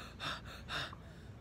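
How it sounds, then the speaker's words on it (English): A person exercising breathes out in two heavy, breathy pants after a set of split jump lunges, close to the mic with a short pause between them and faint noise after. "That's panting like a dog."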